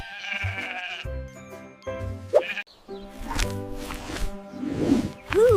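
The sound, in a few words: sheep bleating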